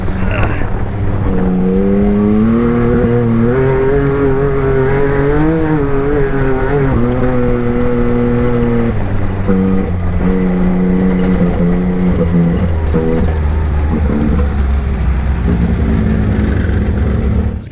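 A turbo Can-Am side-by-side engine drones and revs while driving, its pitch climbing and dropping in sustained pulls. The engine is loud and steady throughout, with no clear talk over it.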